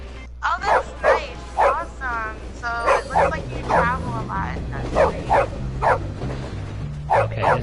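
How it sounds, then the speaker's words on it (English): Game dog from Bully on PS4 barks and yips in repeated bursts while chasing, heard under ongoing talk and backing music. "damn dog is chasing me"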